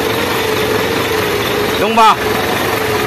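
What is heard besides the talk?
Isuzu 10PE1 diesel engine running after overhaul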